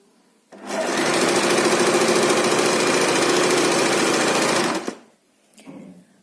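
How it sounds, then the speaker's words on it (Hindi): A sewing machine run by foot pedal stitches fabric strips into thin cord, whirring in a steady rapid mechanical chatter for about four seconds before stopping, with a brief softer burst afterward. "बिल्कुल एक पैर की मशीन चलाएंगे क्योंकि हमें पतली डोरी चाहिए।"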